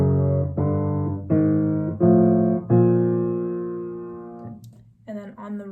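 A piano plays a slow descending chromatic bass line of held low notes and chords, five distinct strikes ringing out, then a softer note at the end.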